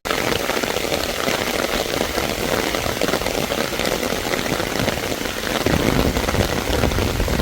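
Steady rain patters on a mountain forest trail, a dense, continuous hiss of drops that grows slightly heavier toward the end, with no voices.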